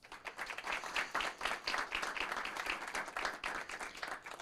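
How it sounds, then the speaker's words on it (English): Audience applause at a city council meeting honoring people for their service: several seconds of steady, dense clapping from a roomful of people, fairly faint and without talk. "Please, an applause."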